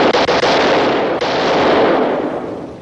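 20 millimeter ammunition cooks off in a shipboard fire, a loud continuous roaring blast with a few sharp pops near the start, close and with no voices.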